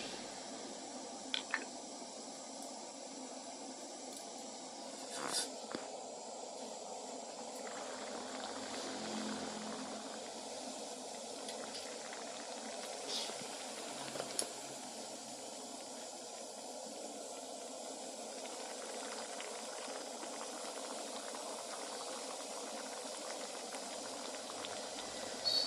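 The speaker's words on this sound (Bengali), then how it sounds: "এবার আমরা ভেজে নেব" Beetroot kachori deep frying in oil, a soft, steady bubbling hiss that holds at an even level for a long stretch, with a few faint clicks now and then.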